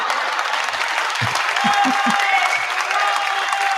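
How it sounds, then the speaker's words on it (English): A recorded applause clip is played back, giving a continuous wash of many hands clapping. People talk over it nearby. "It's called clapping, but it starts with like whooping."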